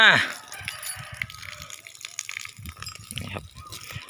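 A garden hose sprays a steady, hissing gush of water over a rooster on a hot day, with a brief sharp call at the very start and a voice talking intermittently over the running water.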